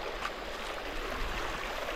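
Water flows steadily in a stream in an African village, a continuous soft rushing and gurgling heard close by with no voices.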